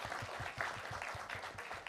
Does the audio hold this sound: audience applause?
yes